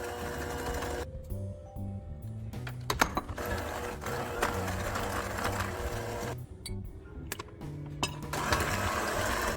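An electric mixer beats eggs and sugar into cake batter, a close, buzzing motor whir with brief pauses and clattering knocks as eggs are added in between.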